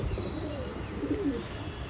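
Pigeons kept shut in a loft give low, muffled cooing over a steady background hum, faint throaty murmurs rising briefly around the middle.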